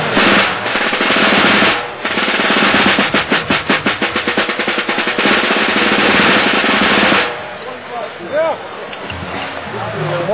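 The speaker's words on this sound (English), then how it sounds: "It's an orchestra drum." A mid-1920s Stromberg orchestra snare drum, untuned and played without rim shots at a Chicago drum show, rattles in a fast crisp roll of close, loud strokes before stopping, and a voice speaks briefly afterward.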